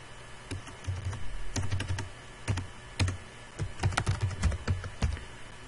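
Typing on a computer keyboard, close and quiet, with irregular bursts of sharp key clicks and brief pauses between them, no voice present.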